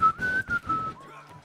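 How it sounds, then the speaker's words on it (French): Whistled music from a video game stage, a clear melodic whistle running through several short phrases, up front and unaccompanied by talk. "une petite musique de sifflement"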